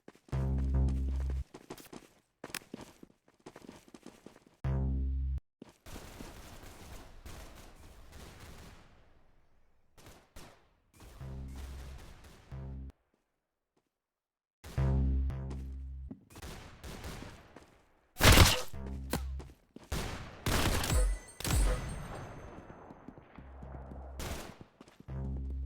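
Video game shooter gunfire, with rapid bursts of shots and single cracks separated by silent gaps, loud and sharp.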